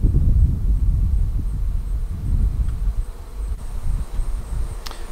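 Honey bees hum steadily around a Flow Hive during honey extraction, a dense, continuous low buzz that stays close and fairly loud throughout, with no talking.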